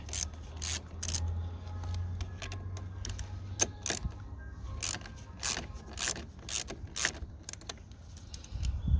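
A ratchet loosens the 10mm terminal nut on a car battery, its rapid clicking coming in repeated short bursts between pauses, close up and with no talking.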